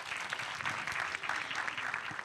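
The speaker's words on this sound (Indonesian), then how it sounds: "tepuk tangan dong buat Emma." Audience applauding a speaker at a panel session on net-zero action, a steady broadband patter of many hands clapping for about two seconds at moderate level, with no talk over it.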